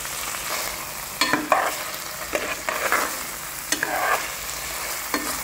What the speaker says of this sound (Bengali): এবার হালকা নাড়িয়ে দিয়ে এগেন আমি লিড লাগিয়ে নেব।